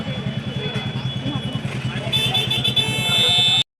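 Road traffic passing by in a village, a steady rolling engine drone with repeated rhythmic pulses and a burst of horn-like tones toward the end, heard under talk.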